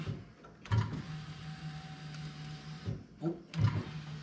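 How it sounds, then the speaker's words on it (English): An electric fuel pump on a car with a Honda F20B engine whirs steadily at close range, a constant mechanical hum that runs for a couple of seconds before cutting off, with brief clicks and thumps at the start and end. "This pump sounds like shit too."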